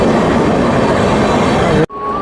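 The Garib Nawaz Express rushing past alongside a moving train in India: a loud, steady roar of wheels and wind that cuts off abruptly near the end into the quieter hum of the carriage.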